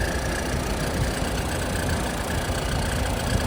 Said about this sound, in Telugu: ఇంజన్ మాత్రం చాలా సైలెంట్ ఉందండి. బండి చాలా సైలెంట్ ఉంది ఇంజన్.